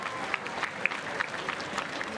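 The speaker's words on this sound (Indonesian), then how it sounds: "boleh kita beri tepuk tangan sekali lagi" Crowd applause for a flag return procession at an Indonesian Independence Day ceremony, steady dense clapping at moderate level throughout, with a few sharper claps standing out.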